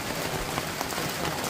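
Steady rain pours down in the Jamaican mountains, heard from under a sheltering awning by a cliff: a dense, even hiss of drops hitting surfaces, close and continuous, with no talking.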